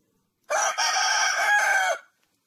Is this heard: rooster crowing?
yes